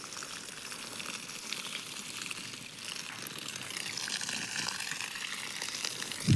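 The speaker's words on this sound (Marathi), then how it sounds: "आता मी छोटा बोर चालू केला आणि शेणखतं पाणी मारून घेतो" Water from a small borewell pump is sprayed onto cattle manure on a farm, giving a steady, fairly quiet hissing gush that runs on without pause, with no talk over it.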